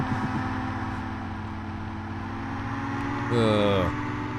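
A Porsche 959 in the Test Drive II racing game on the Commodore Amiga, its engine droning at high revs under steady speech, then a brief rising whine near the end as it climbs toward over-revving.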